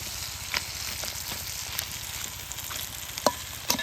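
Fish heads fry in a pan alongside banana stem while a spatula stirs them, giving a steady sizzle broken by a few sharp scraping clicks near the end.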